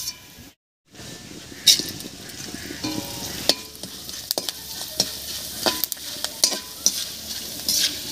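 Shredded potato sticks frying in hot oil make a constant crackling sizzle with scattered pops and utensil clicks, after a brief silent gap at the start.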